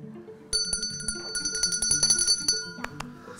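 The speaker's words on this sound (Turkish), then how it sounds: "Sarı masada, mavi masada zili çaldı." A bright quiz-show table bell rings out sharply several times in quick succession, clear and close, with faint background murmur.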